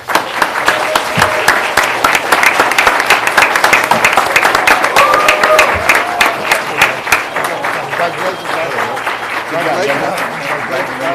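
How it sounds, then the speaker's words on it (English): Sustained applause fills a school board meeting as Super Bowl champion football team members walk in, a long dense roll of many clapping hands with voices calling out underneath. "let's give them a big round of applause"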